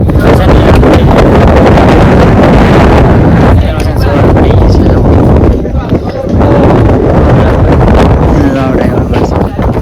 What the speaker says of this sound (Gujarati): હા પવન આવ્યો જૂનાગઢ ઉપર